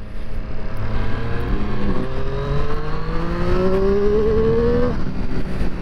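A Triumph Street Triple RS motorcycle in sport mode pulls hard through rising gears on twisty roads, its engine note climbing steadily with a brief shift near the middle and a drop-off at the end, loud and close throughout with no talking.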